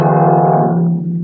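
Two low piano notes struck together, ringing as a single sustained chord that slowly fades out.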